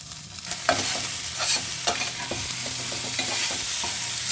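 Potatoes stir-fried in a pan with turmeric and salt give a steady close sizzle, broken by repeated scraping strokes of a spatula against the pan, with no voices.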